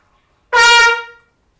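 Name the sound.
horn playing one note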